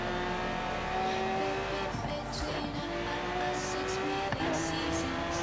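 A car cruising in the racing game Forza Horizon 3, its steady engine drone holding throughout with slight rises in revs and faint tire noise, loud and close.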